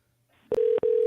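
Telephone ringback tone on an outgoing call: a steady, fairly loud electronic tone starts after a brief dial beep, breaks off for an instant, then resumes unbroken, with no talking.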